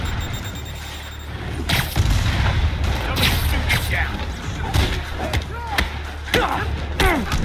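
Rockets exploding in the video game Spider-Man Remastered, a series of booming blasts and thuds over a rumbling game soundscape, several bursts spaced across the clip.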